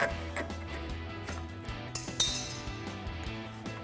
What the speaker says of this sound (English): get in there with a flathead screwdriver, and kind of pry it out